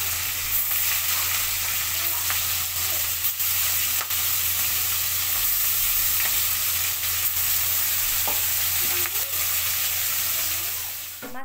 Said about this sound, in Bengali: মাছের মাথাগুলো আমার ভাজি করা হয়ে গেছে। দেখেন খুব সুন্দরভাবে ভাজি করে নিয়েছি।